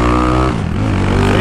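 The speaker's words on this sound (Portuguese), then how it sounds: "Motoca tá agressiva aí com esse motor 370 cilindrada dela." A motorcycle with a 370cc engine running on ethanol revs loudly and close, its engine note dropping as it shifts and then climbing again under acceleration.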